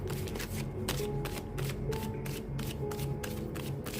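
Tarot cards are shuffled by hand for a yes-or-no reading, producing a steady close rustle with repeated soft riffling flicks and no speech.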